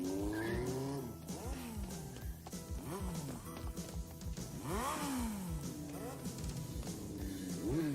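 A movie car speeds and skids, with swooping engine revs, repeated squealing tires and sliding noise that rise and fall continuously at a loud, close level, without voices.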